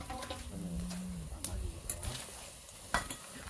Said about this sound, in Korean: 보글보글 지글지글 잘 끓고 있다